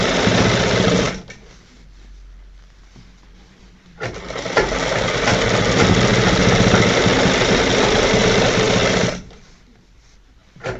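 A sewing machine stitches a double front placket on a shirt, running in a short burst, pausing, then sewing steadily for about five seconds before stopping, with a brief restart at the very end.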